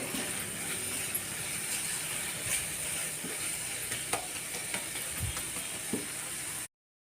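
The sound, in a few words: stirring spice powder in a pan for idli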